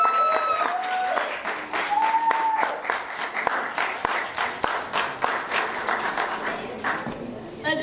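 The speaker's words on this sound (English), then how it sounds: "Let's give another round of applause for Diane Williams." Applause from an audience at a fashion event rises and falls in uneven waves of clapping, moderately loud and fairly close, with faint tones and voices mixed in at the start.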